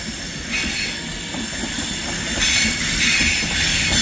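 A Glasgow Central to London Euston passenger train runs past through Carlisle, heard close and loud as a steady rolling roar with hissing and wheel squeal rising and falling over four seconds.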